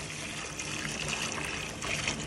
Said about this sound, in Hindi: पूरी 1 कमंडली पानी की मैंने छोड़ दी है।